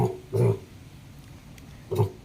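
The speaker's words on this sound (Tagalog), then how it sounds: "maganda yung ating alagang baboy" Pig on a piggery farm giving two short, low grunts, one near the start and one near the end, close to the listener with quiet pauses between them.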